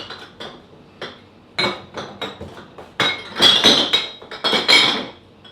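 Glass bottles, collected for return, clink and knock together as they are handled, in a series of sharp irregular bursts that grow busier and louder toward the end, with no talking.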